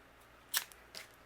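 Scissors trimming a paper moose die cut for cardmaking, two quiet, close snips about half a second apart against a soft hiss.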